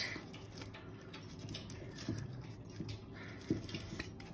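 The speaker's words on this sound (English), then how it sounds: "my dog's drinking some water. It's a weird noise." A dog laps water from a bowl close by, a soft, steady run of wet licking and patter over a light background hiss, with no talking.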